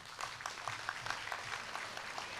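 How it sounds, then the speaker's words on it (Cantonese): Audience applause welcoming the Hong Kong Principals' Choir at its 25th anniversary concert, a steady dense crackle of many hands clapping in a hall, moderately loud and unbroken throughout. "現在請大家以熱烈嘅掌聲歡迎香港校長合"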